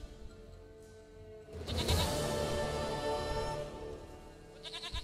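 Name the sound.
goat bleating in a video game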